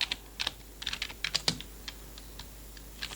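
Computer keyboard typing, a series of light, close key clicks in short irregular bursts with brief pauses, alone in a quiet room.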